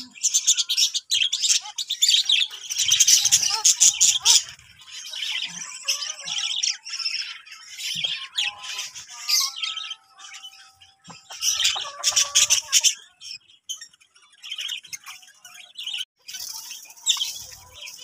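A small flock of budgerigars in a mini zoo chirps and chatters busily while pecking at freshly scattered seed, with dense bursts of bright tweets broken by short lulls.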